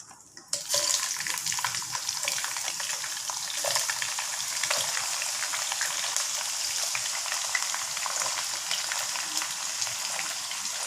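Onions frying in hot oil for a pomfret fish curry make a loud, steady crackling sizzle that starts abruptly and runs on without pause, close and alone.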